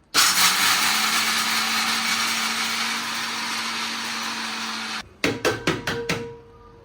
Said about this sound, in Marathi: वाटलं मिक्सर मधून देऊ का?